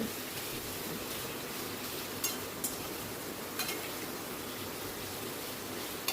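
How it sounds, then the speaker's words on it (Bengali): Taro pieces frying in a pan with a steady low sizzle, with a few sharp clinks and scrapes of a spoon stirring them at intervals. "আমি গাঁটি কচুর টুকরোগুলোকে একটু ভেজে নিচ্ছি। অনবরত কিন্তু নাড়তে হবে"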